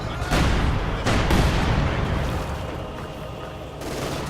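Gunfire and artillery in the Company of Heroes 2 strategy game, a 1v1 match with an S-35 tank firing on a Stuka, dense bursts and booming impacts close together, overlaid by a commentator's voice.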